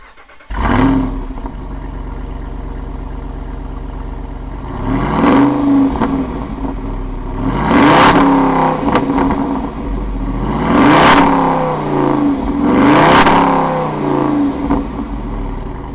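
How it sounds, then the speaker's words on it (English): A 2024 Jeep Wrangler Rubicon 392 Final Edition V8 with exhaust valves open barks to life with a loud startup, settles into a rumbling idle, then is revved several times in sharp, rising bursts, heard from inside the cabin with windows up. "it is insane how loud that startup is"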